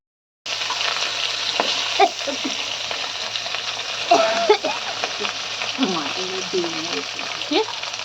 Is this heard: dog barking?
no